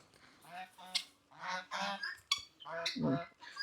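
Several ducks call in a close series of nasal honks and squawks, bunched together with short pauses between them.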